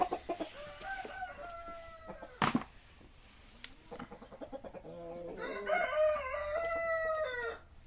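Ornamental-breed roosters crow and hens cluck in a fairly quiet coop, with a sharp knock partway through and a louder, drawn-out crow near the end.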